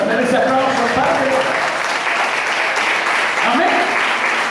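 Congregation applauding in a church service, a steady dense wash of clapping that fills the whole stretch, with cheers or voices mixed in beneath.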